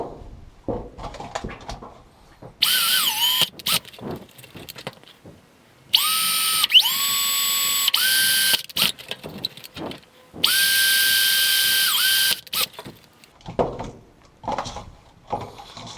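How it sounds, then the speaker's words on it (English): A power drill with a 1/2-inch bit bores holes into a plastic bottle, three whining bursts that rise in pitch as the motor spins up, separated by quieter handling clatter and scraping. "With your 1/2-inch drill bit, drill 4 holes around the top of the bottle."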